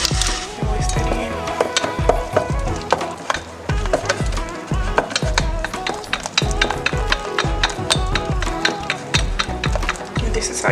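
A whisk beats vanilla into a Japanese soufflé pancake batter in a bowl, making fast, regular clicking strokes against the sides that stay loud and close throughout.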